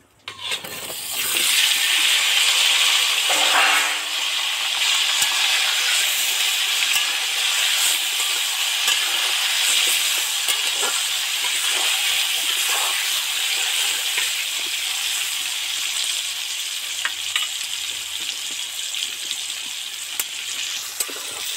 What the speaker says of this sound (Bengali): আলুগুলো তো ডিপ ফ্রাই করে ভাজতে থাকছি